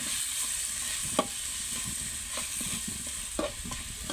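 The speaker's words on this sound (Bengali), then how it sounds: "আর এর মাঝে আমি আবার তরকারিটা কষিয়ে নেব।" Curry is stir-fried in a pan in a village kitchen, giving a faint, steady sizzle broken by light scraping stirs and a few soft knocks of the utensil.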